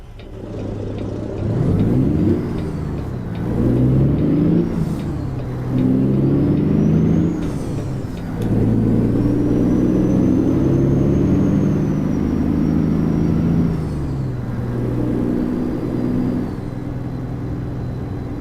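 A powerful new heavy truck engine in American Truck Simulator drones and rumbles loudly, swelling in several long revving surges with a faint turbo whine above, steady and close with no talking.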